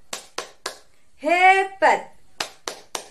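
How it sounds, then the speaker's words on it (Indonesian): Children clap their hands together in a classroom chant, three sharp claps at the start and three more at the end, bracketing a short cheerful spoken exclamation in the middle. "Hore, tepuk tangan untuk semuanya."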